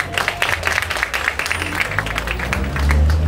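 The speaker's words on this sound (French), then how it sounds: "Je demande donc d'applaudir encore une fois pour nos mamans." An audience applauds the mothers at a public gathering, loud, close clapping rattling steadily, then a low rumble of crowd noise rising near the end.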